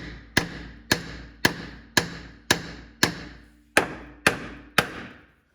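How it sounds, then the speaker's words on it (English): Ten sharp metallic hammer blows on a Hyundai Sonata suspension strut ring out at a steady, even pace, each clang close and loud with a brief ringing decay. "I'm gonna have my dad help me by hitting the hammer down a little bit."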